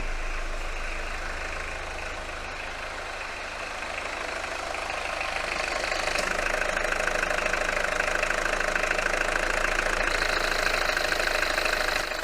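Citroen BX TZD Turbo diesel engine from the 1980s running steadily with a gruff, knocking diesel clatter, loud and close, growing slightly louder partway through with no voices.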